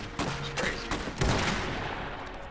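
Bursts of gunfire and explosive cracks in an Iron Harvest co-op mech battle, several sharp overlapping shots in quick succession, loud and close, fading into a noisy rumbling battlefield.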